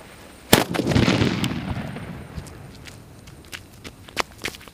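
A sharp sutli bomb firecracker bang goes off nearby, followed by a crackling, fizzing tail and scattered smaller pops fading out.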